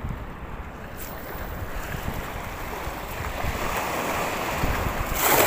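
Sea waves wash and surge near a boat under heavy wind buffeting, a steady rushing roar that swells louder toward the end.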